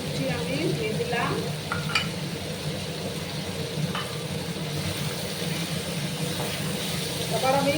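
Four or five chopped green chilies hit a hot pan of frying food, producing a steady close sizzle and crackle with a few stirring scrapes, while a voice talks over it.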